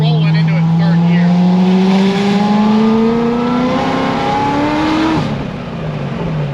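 Stage 5 Chevrolet Corvette C6 ZR1 at 2650, revving hard as it rolls into it in third gear on a tire that can barely hold, loud and close, rising steadily before easing off near the end.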